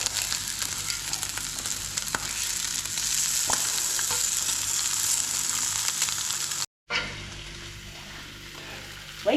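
Honey-coated food sizzles and fries steadily in a pan, with occasional stirring and clinks as pieces are moved about, close and moderately loud, with no talking.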